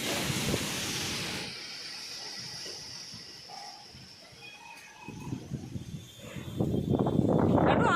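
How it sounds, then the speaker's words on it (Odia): Strong evening wind ahead of rain gusts and roars against the microphone in loud bursts, dropping briefly before surging again, with a faint voice in the background. "ଏତେ ଜୋର ପବନ ହେଲାଣି"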